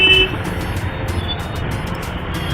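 Dense street traffic on a narrow road in Arrah, with motorbikes and other vehicles giving a steady close rumble and a brief horn toot near the start.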